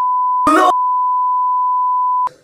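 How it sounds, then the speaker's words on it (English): A steady, loud censor tone bleeps out a word, a single continuous pure beep lasting about two seconds, briefly overlapping a short burst of muffled voice near its start and ending with a faint trailing sound. "I beeped it out"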